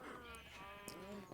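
A single short, wavering bleat from a Minecraft sheep in a video game, heard clearly against a faint steady background.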